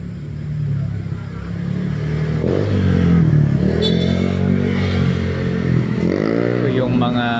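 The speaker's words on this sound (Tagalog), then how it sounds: "Yung mga tricycle ay talagang malaki ang number" Motorized tricycles passing on a city street at night in Passi: loud, close engine drone and revving from passing vehicles, rising and falling, with a voice talking in the clip.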